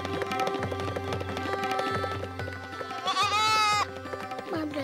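A goat being taken to a stream in India to be washed bleats in a series of wavering, nasal cries, one higher and more strained near the end, over a musical background.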